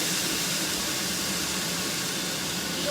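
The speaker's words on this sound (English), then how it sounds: "Ooh, it's sizzling well, Pete" Beef madras sizzling in a pan, a steady, close hiss of frying that runs unbroken throughout with no speech over it.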